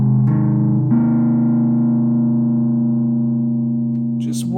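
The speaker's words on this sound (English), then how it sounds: "The saturation on the side of this Deco is incredible." Heavily saturated guitar tone from a Deco pedal with its saturation knob maxed, a sustained thick chord ringing loud and steady for several seconds before a brief pick noise at the end.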